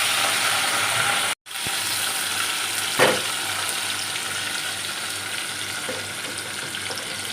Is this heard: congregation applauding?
no